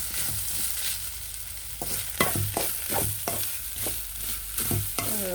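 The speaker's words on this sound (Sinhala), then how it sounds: "දැන් ටෙම්පරාදුවත් එක්ක අපේ පොල් ටික හොඳට ටිකක් මැලවෙන්න දෙන්න ඕන." Grated coconut wilting with tempering in a pan for a jackfruit mallum, a steady stir-fry sizzle with repeated scraping strokes of a spoon through the mix.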